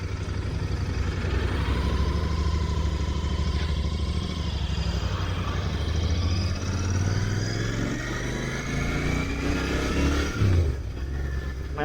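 Royal Enfield Continental GT650 motorcycle being ridden, a steady loud engine drone with gear shifts and rising and falling revs throughout, close to the rider, with wind noise and no talking.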